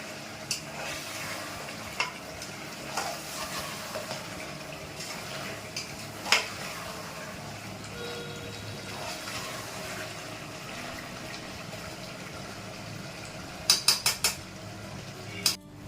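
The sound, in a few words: mutton curry being stirred and braised in a pot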